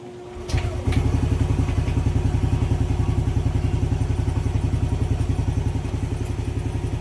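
A Yamaha Aerox or Nmax scooter with a failing charging/starter relay cranks and starts, then settles into a steady, rhythmic, close-up idle with a pulsing low thump.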